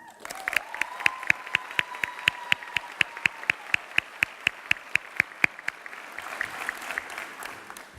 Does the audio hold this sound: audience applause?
yes